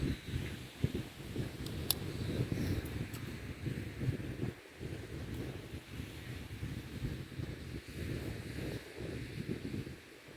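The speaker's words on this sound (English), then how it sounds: "tuning into the sounds of the waves" Ocean waves at Nokomis Beach, a low continuous rumble of surf mixed with gusty wind buffeting the microphone, steady and fairly faint.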